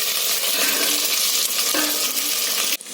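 Garlic sizzles in hot oil for a Tamil tamarind curry, a loud, steady, close hiss and crackle that stays constant throughout, with a sharp clatter near the end.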